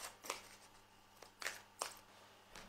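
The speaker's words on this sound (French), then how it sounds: "Et maintenant on va faire donc le tirage à 5 cartes." Tarot cards are shuffled and handled for a five-card spread, a few quiet, crisp riffles and snaps spaced irregularly across a near-silent room, close but faint, with no talk.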